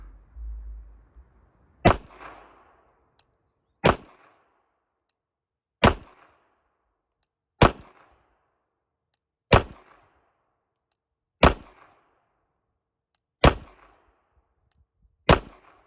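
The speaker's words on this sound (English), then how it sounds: "I'm gonna shoot 10 rounds and see how I can do one-handed" Ten rounds fired one-handed from a handgun at an outdoor range, sharp loud cracks spaced about two seconds apart, each followed by a short ringing decay, with no talk between shots.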